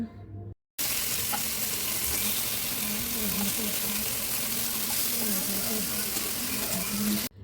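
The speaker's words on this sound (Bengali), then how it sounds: "তো হালকা করে ভেজে নেব অত বেশি ডিপ ফ্রাই কিন্তু করব না" Loitta (Bombay duck) fish shallow-fry in a pan, a steady close sizzle running evenly for several seconds after a brief silent gap at the start, with faint background noise and no talking.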